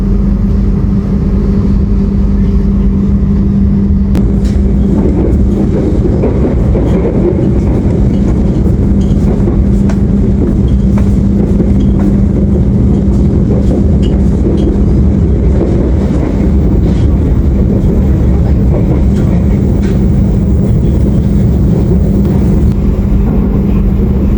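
Inside the Sawunggalih Utama economy train running on rails out of Purwokerto station, a loud, steady rumble and low hum carry on throughout with faint rail clicks and wind noise, and no voices are heard.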